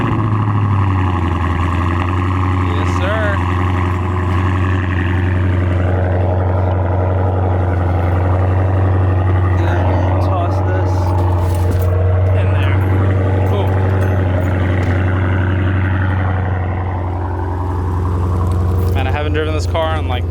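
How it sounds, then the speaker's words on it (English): Twin turbo Mustang idles loudly with a deep, steady engine drone throughout after a cold start, close to the microphone, with people talking over it. "Let's go ahead and get her started up. A little cold start for the boys."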